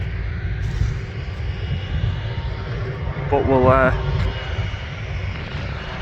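A plane at Manchester Airport produces a steady, low engine roar through the whole stretch, with a brief voice partway through.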